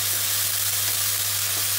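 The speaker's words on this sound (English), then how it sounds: "Let them fry in the oil to give us the flavor." Mutton liver masala ingredients frying in oil, a steady close sizzle with constant hiss and a low hum underneath.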